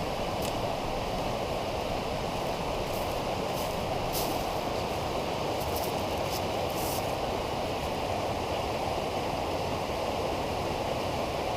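Steady rushing of creek water along a mountain hiking trail, a continuous broadband wash with no breaks, close and fairly loud, with faint higher chirps above it.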